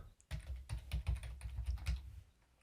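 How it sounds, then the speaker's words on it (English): Rapid clicking of computer keyboard keys as a rename shortcut is typed, a quick run of close, crisp taps lasting about two seconds with no voices. "So I use the rename keyboard shortcut"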